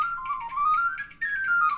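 A whistle plays a traditional tune, a clear bright melody of flowing, slightly gliding notes that runs continuously and fairly close, with no talking.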